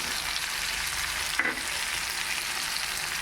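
Spice paste sizzles in a pan while cooking shukto after potatoes are fried, a soft, steady hiss with one brief clink of a utensil midway.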